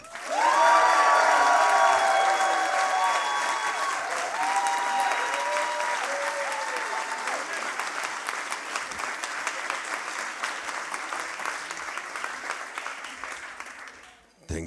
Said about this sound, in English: Then please applaud now